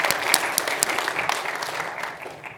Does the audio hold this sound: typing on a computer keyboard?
no